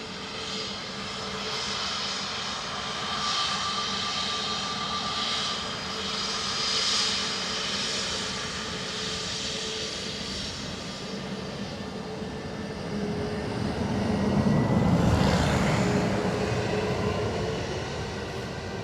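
Ryanair jet landing on runway 28 left at Dublin Airport, a continuous distant engine roar that swells and fades across the whole stretch, louder toward the end as the aircraft passes.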